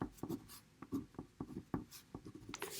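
Pen or pencil scratching out a recorded distance measurement in a physics lab on angular momentum, a run of short quiet strokes and taps at close range, with no talk.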